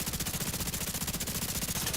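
Rapid automatic gunfire in The Division 2, a continuous loud burst of fast regular shots with no pause.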